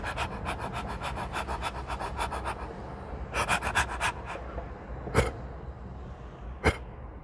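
A person imitates a Belgian Malinois dog's panting with a quick run of rhythmic huffing breaths, loud and close, which then pauses and resumes in a shorter burst, followed by two sharp isolated puffs.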